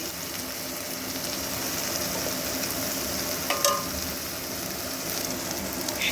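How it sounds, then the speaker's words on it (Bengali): Potato and pointed gourd stir-frying with turmeric in a pan, a steady soft sizzle broken by a few light scraping stirs, fairly close and alone. "দিয়ে ভালো করে নাড়াচাড়া করে এর সঙ্গে কষিয়ে নেব"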